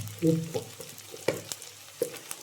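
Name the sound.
onions frying and being stirred in a pan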